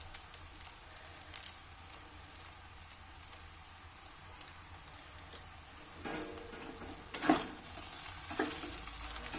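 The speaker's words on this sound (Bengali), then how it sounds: "এবারে হচ্ছে ম্যাগি মশলাটা দিয়ে আর একটু মিক্সড করে দেবো" A spoon stirs vegetables with Maggi masala and black pepper in a pan for chow mein, producing faint, steady scraping and light sizzling, with a louder clatter toward the end.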